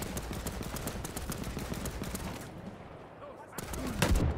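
Bursts of machine gun fire crackle rapidly and repeatedly in a World War II video game set during the 1939 German invasion of Poland, the shots dense and fairly near before a brief lull and a louder rumble.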